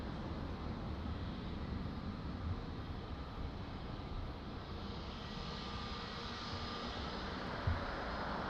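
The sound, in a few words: Lufthansa airliner arriving from Frankfurt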